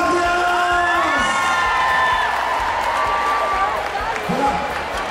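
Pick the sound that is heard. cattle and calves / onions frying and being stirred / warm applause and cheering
warm applause and cheering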